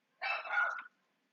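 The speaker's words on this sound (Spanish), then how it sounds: "a disculpar los perros" One short, close yelping bark from a dog in a home during an online organic chemistry tutoring session, a single clear burst with silence after it.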